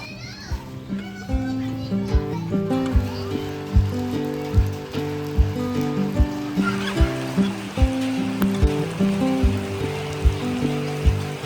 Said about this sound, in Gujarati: ફિલહાલ જો વરસાદની મજા લઈએ